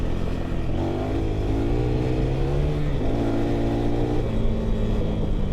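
A KTM 390 Adventure R motorcycle engine hums steadily at moderate revs while riding a potholed gravel road, with small pitch shifts as the throttle changes, loud and continuous throughout.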